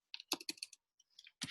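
A computer keyboard being typed on to enter a number, a quick cluster of sharp, close key clicks, a short pause, then a few lighter taps and one more click, with no voices.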